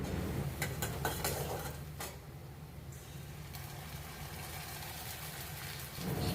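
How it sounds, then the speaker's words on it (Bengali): Onions sizzle in hot oil in a pan, with potatoes fried earlier, as a steady crackling hiss with a few clinks of a utensil stirring against the pan, heard alone without talk. "আলু ভাজা তেলের মধ্যে আর একটু তেল দিয়ে আমি পেঁয়াজগুলোকে ভেজে নিচ্ছি"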